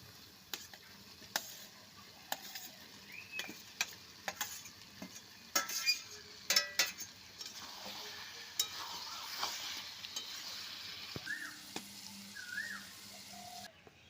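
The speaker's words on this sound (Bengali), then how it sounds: "এবার আমি আলু আর এঁচোড়টা দিয়ে আরও কিছুক্ষণ কষিয়ে নেব।" Chicken, potatoes and raw jackfruit sauté in a pan for a village-style curry, with a soft background sizzle under frequent scattered clicks and scrapes from stirring. The sound is fairly faint and no one speaks.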